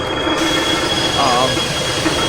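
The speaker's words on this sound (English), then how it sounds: "That was the pop-off valve." A steam engine's pop-off valve vents overpressurized boiler steam in a loud, steady, broadband hiss over a low rumble, lasting the whole moment close by.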